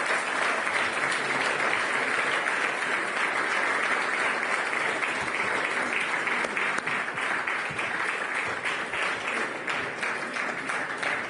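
A large audience applauds in a continuous, dense wash of clapping that holds steady and loud for over ten seconds as finalists come up onto the stage.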